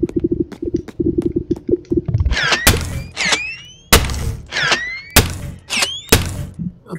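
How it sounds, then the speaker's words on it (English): Knocking and banging on a door in the BoneLab horror game: a quick run of rapid knocks, then several heavy, loud bangs spaced about a second apart, each followed by creaking squeaks. "Do not answer the knocking."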